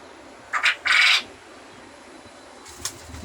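Male quails calling in a caged flock, two short bright squawking bursts close by, then a fainter call a moment later over low background hiss.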